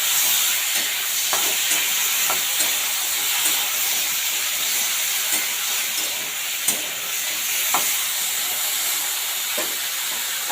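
Pumpkin, okra and tomato fry in a pan for a fish curry, giving a steady, loud hissing sizzle with occasional soft clicks of stirring throughout.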